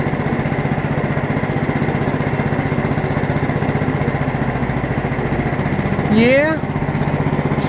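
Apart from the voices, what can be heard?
1959 Case 700 tractor with 11hp Honda engine idling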